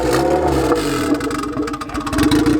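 Turbocharged Honda Civic drag car engine running at a drag strip, a steady loud rumble with slight rev fluctuations near the end, close by and without talk.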